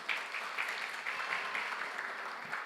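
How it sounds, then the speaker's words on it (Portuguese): Short burst of congregation applause in a church service, a soft, even patter of many hands at moderate distance, steady across the brief moment with no voices standing out. "Aplauda o Senhor."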